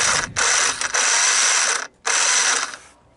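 Recoil starter on a moldy, long-neglected Honda TRX250 ATV being pulled, two rasping ratcheting whirs close by, each a couple of seconds long with a short pause between, followed by a quieter tail.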